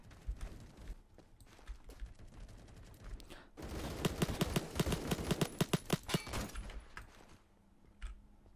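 FAL rifle fire in Roblox Phantom Forces, sparse single shots at first, then a dense run of loud, rhythmic rapid shots for several seconds before trailing off to a few isolated cracks, no talk over it.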